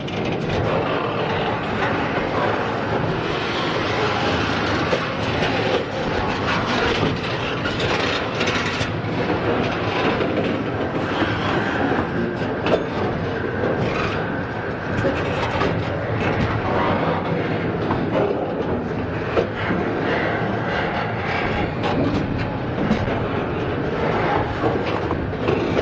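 A long freight train rolls steadily past at Bevier St. Yard, nearby and loud, with continuous rumbling and clattering wheels on rails throughout.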